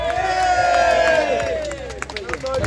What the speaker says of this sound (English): Go on, give her another round of applause.